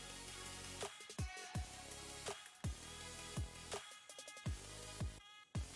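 A Sony a6300 camera shutter clicks several times in quick succession, sharp mechanical snaps over a steady electronic hum, fairly quiet and close.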